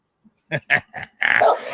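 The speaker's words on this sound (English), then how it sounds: "She's barking because of fireworks" A dog barks during fireworks, letting out a quick run of four or five sharp, close barks in under two seconds, with the last ones rougher and more drawn out.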